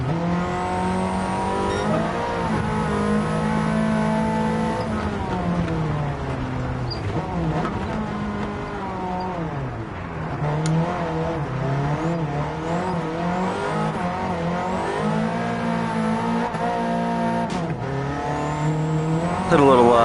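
Race car engines in Gran Turismo 7 drone and rev continuously through a snowy race, a Group B Quattro among them, with rising and falling pitch as gears shift and tyres slide, steady and close.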